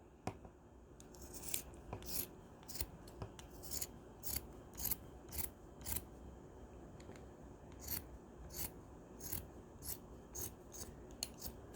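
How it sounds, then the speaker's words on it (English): Scissors cut the sleeves off a t-shirt along the inside of the seam, giving a quick series of crisp snips and fabric rustles, close but quiet, with no speech. "The first thing we want to do is cut the sleeves off, and cut on the inside of the seam here"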